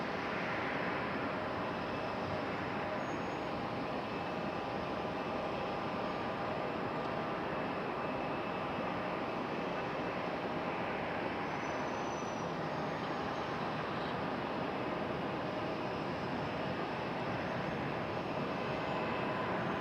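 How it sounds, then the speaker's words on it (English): A Boeing 777 airliner's engines roar steadily at an airport runway, a continuous broadband jet rush heard from a distance without voices. "777 getting closer to the end of the runway now."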